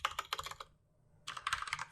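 Computer keyboard keys tapped in two quick bursts of typing, crisp and close, separated by a short pause of near silence.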